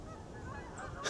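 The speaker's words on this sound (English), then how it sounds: "I think these geese just finally realized it's winter and they need to go south" A flock of geese honking overhead on a winter day, soft distant calls heard briefly on their own.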